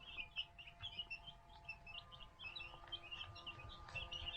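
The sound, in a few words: turkey poults chirping in a brooder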